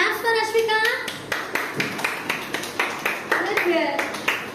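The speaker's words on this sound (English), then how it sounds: "Claps for Ashwika." Nursery schoolchildren in a classroom clap for a classmate in a quick, steady burst of rhythmic handclaps lasting several seconds, with a voice speaking at the start and again partway through.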